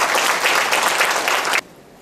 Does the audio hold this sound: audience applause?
yes